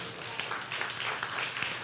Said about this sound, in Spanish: Dele el aplauso al Señor, que dele.